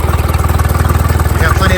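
A small engine idles smoothly after a priming bulb replacement, with a fast, even pulsing chug, loud and close, running without any stutter.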